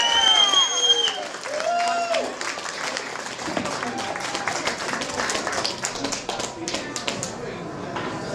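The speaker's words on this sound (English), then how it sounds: "a round of applause for Peter Kane" An audience at a recovery event in Camden, London applauds and cheers for an honoree. Loud, close clapping builds into a dense patter with some cheering and whoops. Voices and shouts rise early on, then the applause carries on steadily.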